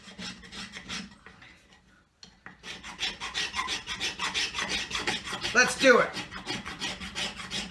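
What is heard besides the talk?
scraping, filing wood while making an axe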